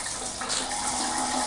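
A hotel shower at a Hyatt Place in Biloxi runs steadily, a loud, continuous hiss of spraying water close by, with no voices.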